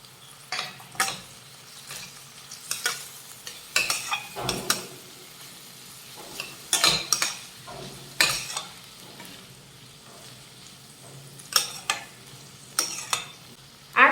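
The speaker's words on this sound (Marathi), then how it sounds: "आता एक मध्यम आकाराचा टोमॅटो बारीक चिरून घेतलेला आहे तर हा कांद्यासोबत ह्या परतून घेऊयात" Finely chopped medium tomato being sautéed with softened onion in a pan, heard as a soft, steady sizzle broken by repeated scraping and clinking stirs of a utensil against the pan, close and moderately loud, no voices.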